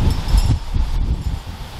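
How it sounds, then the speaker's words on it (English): Strong wind of about 50 mph buffeting the microphone in heavy low rumbling gusts, with a rustle of leaves underneath. "We're looking at 50-mile-an-hour gusts right now."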